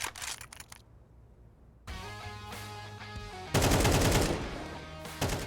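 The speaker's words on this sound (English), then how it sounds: "There's great spray control in order to get those bullets through that tiny little sliver all the way from chair over towards cat" Rifle spray in a Counter-Strike esports match: dense bursts of rapid automatic gunfire, separated by brief pauses, loud and close, with the final burst the heaviest.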